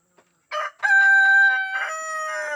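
Village chickens with a rooster crowing loudly and close, one long drawn-out cock-a-doodle-doo, preceded by short clucks, heard alone outdoors.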